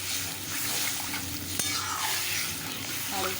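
Shingi fish and potato curry bubbles and sizzles in a pan with water just added, stirred steadily with a single sharp scrape of the utensil, close and continuous with no talking.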